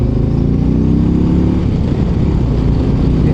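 A 2025 Harley-Davidson CVO Road Glide Raven Fade motorcycle rumbles loudly and steadily while riding, its deep engine note close and continuous with no talk over it.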